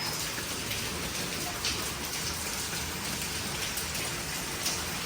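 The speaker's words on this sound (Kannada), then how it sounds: "ಜೋರು ಜೋರು ಮಳೆ ಬರ್ತೈತೆ" Heavy rain pours down steadily, a dense, loud hiss of drops drumming on surfaces with no break.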